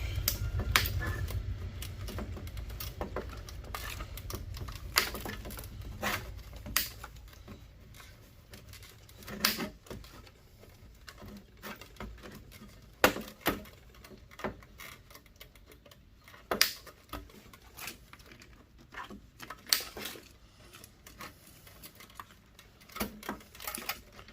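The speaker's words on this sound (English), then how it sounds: "Now, with the power supply unit, I do cut the wiring on the back." Wiring on the back of a computer power supply unit is cut with small cutters, giving a series of sharp, irregular snips and clicks up close over a quiet background.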